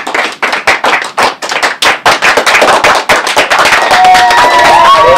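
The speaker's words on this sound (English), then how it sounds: "Give yourselves a round of applause." A studio audience at a late-night comedy show's Christmas special gives a loud round of applause: dense, crackling clapping close by, rising into steady sustained applause with a few whistles near the end.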